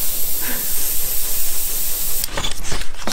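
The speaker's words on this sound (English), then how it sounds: "I'm always just being careful about where I'm spraying near my black cloak" Airbrush hissing steadily as it sprays paint onto a Nagash miniature, a close, loud continuous spray that breaks into short bursts near the end.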